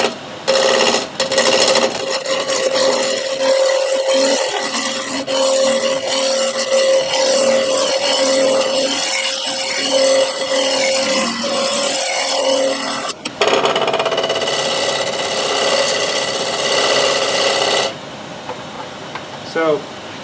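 A wood lathe spins a 4x4 being turned into a mallet while a tool held on its side takes a planing cut, a steady whirring hum with a faint tonal whine and brief interruptions, up close.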